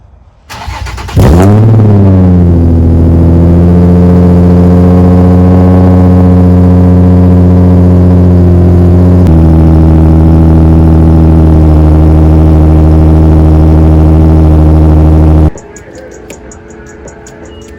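Nissan 350Z cold start heard up close: a starter crank, then the engine catching with a sharp rev flare that settles into a loud, steady high idle, which drops slightly partway through before the engine cuts off.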